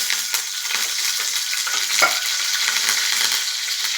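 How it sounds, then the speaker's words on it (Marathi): Curry leaves sizzle and crackle steadily in hot oil in a pan, a close, continuous frying hiss with small pops and no voices. "त्यात कढीपत्ता घालते."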